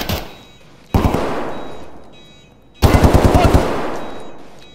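Automatic gunfire in Escape from Tarkov comes in two loud bursts of rapid shots, each ringing out and fading, with a brief voice at the start.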